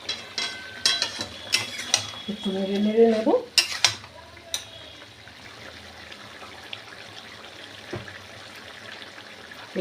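Tomato chicken is stir-fried in a pan, with close spoon scrapes and stirring over a soft sizzle, busiest in the first few seconds and then quieter, with no talk.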